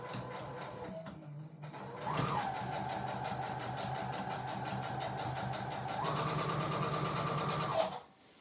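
A sewing machine stitches piping cord around the round end of a bolster cushion. It runs in one steady mechanical whir of about six seconds, fairly close and loud, and the motor pitch rises slightly near the end before it stops abruptly.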